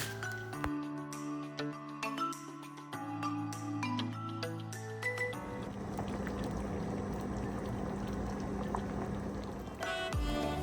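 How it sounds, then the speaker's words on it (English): A chana curry gravy of chickpeas and potatoes simmers on a medium-high flame. Soft bubbling churns steadily under faint tonal background sounds, close and fairly quiet. "simmer the gravy on medium to high flame until it thickens in consistency"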